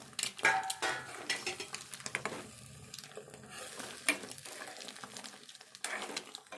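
Egg whites frying in a hot pan for egg curry, a steady sizzle broken by scraping and stirring of a spatula against the metal pan, with occasional clinks, close and moderately loud.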